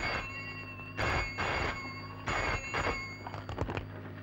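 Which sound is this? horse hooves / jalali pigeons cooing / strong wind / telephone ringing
telephone ringing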